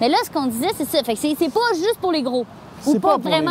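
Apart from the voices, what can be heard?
None of the usual background noises is heard.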